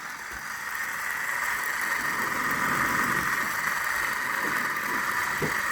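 A kid's toy Stirling engine runs at full speed while heated by a blow torch, a steady close whirring hum mixed with the torch's constant hissing roar, unchanging throughout.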